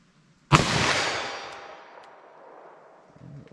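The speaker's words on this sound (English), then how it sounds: "Let me fire one single action and see where these land." A single loud, sharp shot from a .327 Federal revolver fired single action cracks out close by, then a long echoing decay trails off into quiet.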